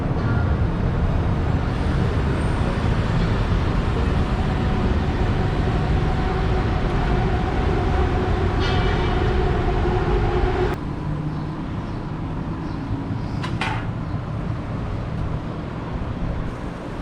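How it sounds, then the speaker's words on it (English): Loud, continuous rumble of a train rolling past up close, then dropping to a quieter hum, with a couple of brief metallic clanks near the end. "Here's my train coming in."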